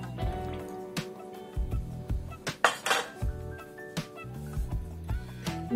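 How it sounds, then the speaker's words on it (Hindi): Peshawari mutton rosh, a namkeen gosht, being served onto a platter: scattered clinks and clanks of a utensil against dishes, close and fairly loud, over a faint tonal background. "प्लेटर पे निकालती हूँ और फिर आपको दिखाती हूँ।"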